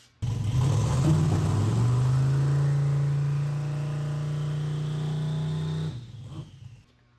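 A car engine with a swapped torque converter stator is held at steady revs while its turbo fails to spool, a loud droning hum that stays level for several seconds, then drops away.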